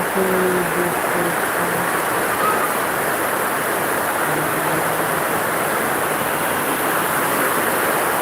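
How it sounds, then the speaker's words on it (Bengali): Heavy rain pours over Jendapur upazila, a loud, dense and continuous wash of noise with a few faint tonal sounds drifting in the background and nobody speaking. "এই আমাদের জেন্দাপুর উপজেলায় খুব বেশি বৃষ্টি"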